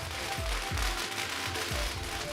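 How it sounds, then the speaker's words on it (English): Fireworks burst at a Diwali festival celebration in Hollywood, a run of dull thumping pops with crackling over a steady wash of crowd and ambient noise, somewhat distant. "Oh, there's some more fireworks."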